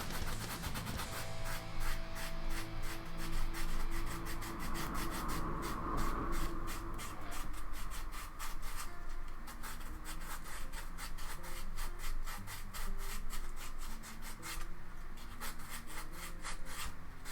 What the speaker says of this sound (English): And then a little bit of sanding, I think.